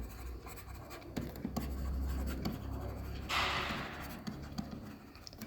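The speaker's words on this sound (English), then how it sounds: "Let's write it down." Pen or pencil scratches on paper while figures are written down by hand for an accounting calculation, a faint, close, steady scribbling with small taps.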